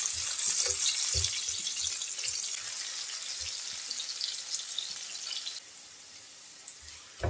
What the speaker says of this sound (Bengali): এই পেঁয়াজটা একটু লাল লাল করে ভেজে নেব।